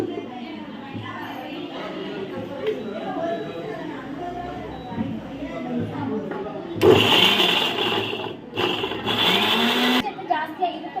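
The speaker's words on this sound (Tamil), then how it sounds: "பீட்ரூட் எடுத்து அதை நல்லா அரைச்சி மிக்சியில் போட்டு நல்லா அரைச்சிக்கலாம்" A person talks, then a mixer grinder whirs loudly blending beetroot in two bursts separated by a short pause.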